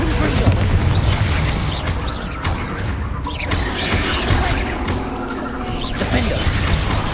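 Bombarda blasting spells and other combat spells cast in Hogwarts Legacy, a run of whooshing bursts, crashes and mechanical clatter over a steady rumbling game soundtrack, with voices speaking through parts of it.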